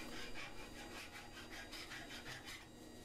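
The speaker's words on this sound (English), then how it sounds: "what I'm going to do is finish it off with a file" A hand file rasps back and forth across a wooden candle holder clamped in a vise, making a continuous, close, gritty scraping in steady strokes.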